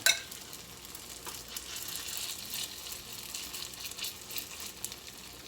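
Hot water cornbread patties fry in oil with a steady, close, crackling sizzle that runs throughout, with a brief louder pop at the start and no voices.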